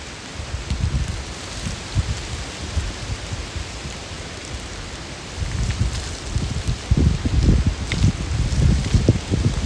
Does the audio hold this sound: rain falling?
yes